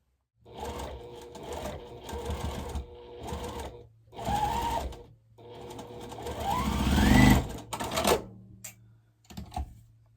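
A sewing machine stitches a quilt strip in several short bursts of rapid mechanical whirring separated by brief pauses, the longest run swelling in speed before stopping, close and clear.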